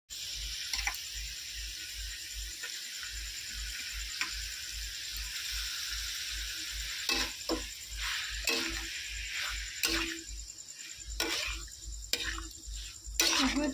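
Chicken skin frying in a pan late at night, a steady low sizzle with occasional ticks and stirring clatters, faint and continuous throughout.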